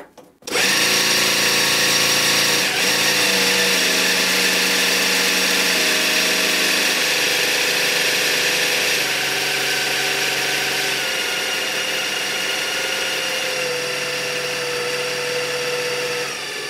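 A sewing machine servo motor spins at about 1600 RPM, a steady close whir with a constant tonal hum that holds evenly for the whole stretch, slight pitch shifts along the way and no talking.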